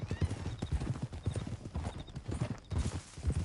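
Horse hooves clip-clop at a steady walking rhythm in the Western video game Red Dead Redemption, close and moderately loud, with a brief whinny-like sound and some faint background voices.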